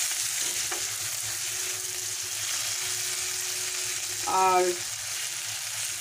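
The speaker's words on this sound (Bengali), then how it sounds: "এই সময় আদা রসুনের পেস্ট দিয়ে 4 মিনিট ভালো করে এটাকে রান্না করে নিতে হবে" Chicken fries in a pan with ginger garlic paste for a chicken masala, giving a steady, loud sizzle throughout, while a voice says a word briefly near the end.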